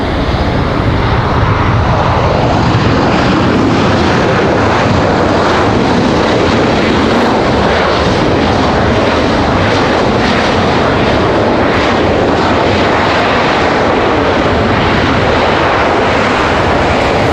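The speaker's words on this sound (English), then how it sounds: "Southwest touching down nice and noisy." A loud, continuous roar of a Southwest passenger jet landing close by at Raleigh-Durham International Airport, steady and broadband throughout, with no voices.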